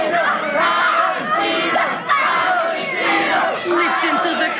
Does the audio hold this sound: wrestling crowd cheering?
yes